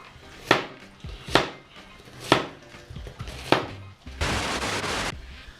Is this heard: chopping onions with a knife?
yes